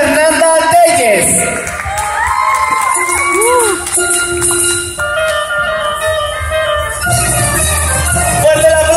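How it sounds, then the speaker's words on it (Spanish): At a fashion show at a quinceañera expo, a crowd claps, cheers and whoops loudly over music, while voices shout throughout. "Fuerte el aplauso, señores."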